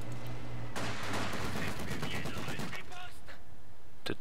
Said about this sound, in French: L'ennemi tire sur ma position.